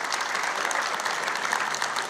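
A crowd at a political speech breaks into loud, sustained applause, with dense continuous clapping filling the space throughout.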